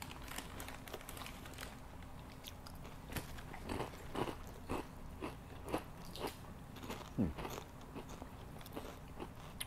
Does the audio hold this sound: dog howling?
no